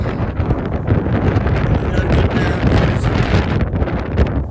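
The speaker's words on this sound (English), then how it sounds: "This wind isn't gonna let up." Strong mountain wind gusts roar and buffet the microphone without letup, loud and rumbling, while a person speaks briefly beneath the wind.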